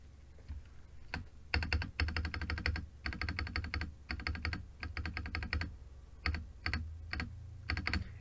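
Keys clacking on a GamaKay LK67 mechanical keyboard in quick rhythmic runs with brief pauses, the spacebar included, close and crisp with no speech.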